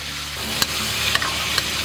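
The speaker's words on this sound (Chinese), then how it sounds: "接着把这个腌制好的牛肉倒进去，给它快速滑炒。" Marinated beef stir-fried quickly in hot oil in a wok, with a steady close sizzle broken by a few sharp clicks and scrapes from the stirring utensil.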